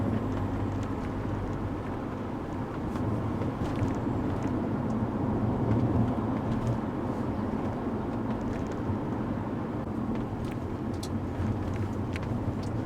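A 2.0-litre TDI diesel Audi A4 Cabriolet (B7) with Multitronic transmission cruises along, giving a steady broadband engine and road drone that holds at an even level throughout with no talking.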